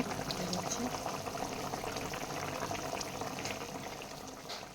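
A pot of thin fish curry with papaya simmers at a steady bubbling boil, a dense continuous hiss and gurgle close by with no pauses.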